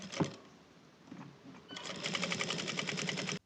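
A sewing machine topstitching the edges of a fabric belt loop, starting with a few uneven whirs and thumps, then running into a fast, steady rhythmic clatter up close.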